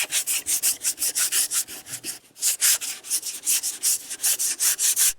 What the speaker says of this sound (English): now you can see I've sanded this filler